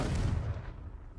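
A Confringo fire spell explosion in Hogwarts Legacy: a single heavy boom with a deep rumbling tail that fades over about a second, with no voices.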